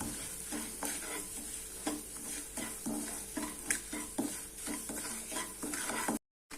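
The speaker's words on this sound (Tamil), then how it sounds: "இப்போ பாருங்கள், இந்த ரவை கொஞ்சம் செவக்க வறுத்தாச்சு." Half a cup of upma semolina dry-roasting in a pan for Chettinad ukkara, with steady rhythmic scraping and stirring over a soft, continuous sizzle, close up and without talk.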